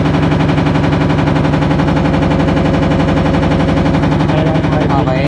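A hybrid e-car's gasoline engine running hard and close to the microphone, a loud, dense, rapid pulsing roar that holds steady throughout.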